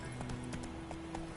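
In The Witcher 3, a horse gallops along with a quick, even clip-clop of hooves under a dense, steady game soundscape.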